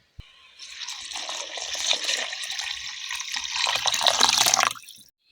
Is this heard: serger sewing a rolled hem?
no